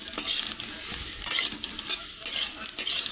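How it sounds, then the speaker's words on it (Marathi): Green chilies with salt are stir-fried in a pan, giving a steady hiss of frying broken by repeated scraping and stirring strokes of a spoon against the pan, close and continuous with no talking. "परतून घ्यायचे मस्त चांगली बराच वेळ."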